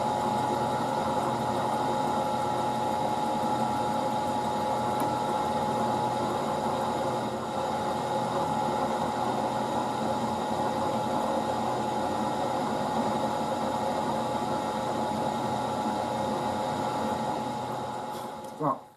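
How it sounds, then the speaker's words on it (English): A power drill whines steadily and loudly for a long stretch, grinding continuously into a hard metal bolt without pause before cutting off at the end. "Well, it's hard, but it's drilling."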